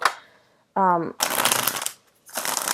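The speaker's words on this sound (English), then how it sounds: "it's really difficult to shuffle on top of this tablecloth." Tarot cards riffle-shuffled on a cloth-covered table in two brisk bursts of rapid fluttering, with a short voiced sound between them.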